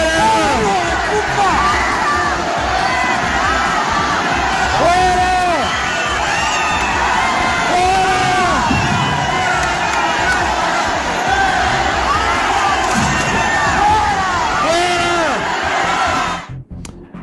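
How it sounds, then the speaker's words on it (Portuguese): A large crowd at a political party meeting in Bolivia erupts in loud, constant tumult of shouting, whoops and jeering voices. Rising cries surge repeatedly over the dense babble until it cuts off abruptly near the end. "Vamos acompanhar o tumulto."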